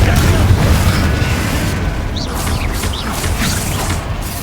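A Confringo fire spell blasts in a Hogwarts Legacy duel, a loud booming explosion with rumbling low end, followed by crackling bursts and faint voice-like game effects.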